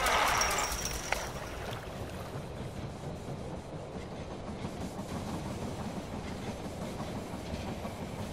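In the strategy game They Are Billions, a train rolls into a station with a continuous rumbling clatter of wheels on rails, steady and moderately loud throughout, alone without talk.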